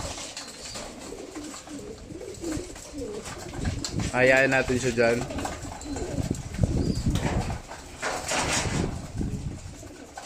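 Pigeons, including a white-topped one, coo softly in low, repeated bursts outdoors, with a person talking nearby and wings briefly flapping.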